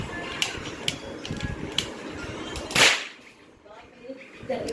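A toy match gun fires matchstick caps during a Diwali celebration, with sharp snapping cracks scattered through mechanical clicking, one loud burst near the middle, then quieter rattles.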